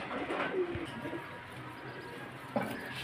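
Kaldam pigeons coo in a low, soft call near the start, followed by a quieter second coo toward the end against steady background noise.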